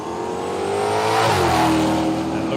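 A drag racing car at Willowbank Raceway in Australia launches with a loud, close engine roar that rises in pitch midway through, a steady high-revving wail with no talking over it.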